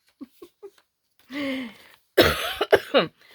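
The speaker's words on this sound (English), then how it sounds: "I know y'all got to get tired of this cough" A few small throat sounds, then a harsh, loud burst of coughing, several rough coughs in quick succession, close by.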